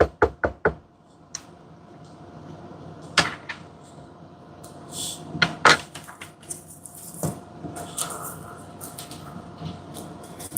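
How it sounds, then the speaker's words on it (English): Sharp knocks on a front door, a quick cluster of raps at the start followed by several more scattered single knocks, close and clear over a low background hum. "He's getting ready to knock on your front door."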